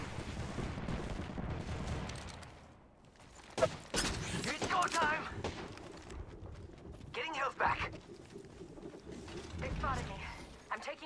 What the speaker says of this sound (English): Getting shot at. Engaging. Taking fire.